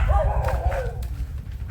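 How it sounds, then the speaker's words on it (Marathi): A dog barks in a few short, yelping bursts at a monkey near the Raigad fort, heard outdoors over steady low background rumble. "आणि कुत्रा त्याच्यावर भुकतोय."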